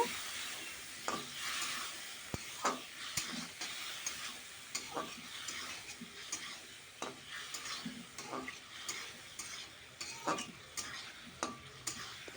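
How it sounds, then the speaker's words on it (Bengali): Spice paste stirred and sautéed with a splash of water in a pan for a silver carp fish curry, a steady soft sizzle under repeated scraping and tapping of the spoon against the pan, close and fairly quiet. "দেখুন জলটা দিয়ে আমি ভালো করে নেড়ে চেড়ে মশলাটাকে কিন্তু কষিয়ে নিয়েছি"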